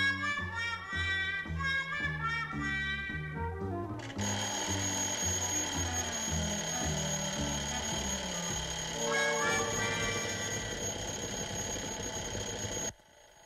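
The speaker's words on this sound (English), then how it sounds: "the professor set that old alarm of his for 9:30. And there it goes now." A vintage 1962 alarm clock rings continuously and loudly for over twelve seconds, a steady metallic bell clatter over a musical score, cutting off abruptly at the end.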